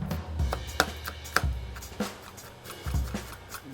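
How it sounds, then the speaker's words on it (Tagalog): Knife finely chopping ginger on a board for kinilaw, a Filipino raw fish dish: sharp, close knocks in irregular bursts, some strokes hitting harder than others, with no talk over them. "Pipinuhin mo ngayon ng pinong-pino."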